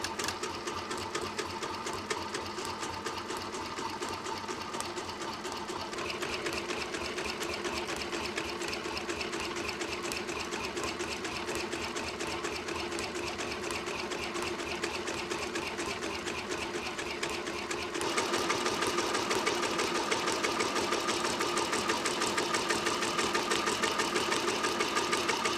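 Embroidery machine stitching a slow triple-run outline on a patch, a steady fast mechanical rattle running the whole time, with the pitch and loudness shifting up a little partway through.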